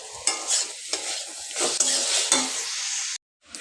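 Onion and vegetables sauté in a pan, loud sizzling broken by repeated scraping strokes of a stirring spoon, then a sudden brief silence before the sizzle resumes; nobody speaks.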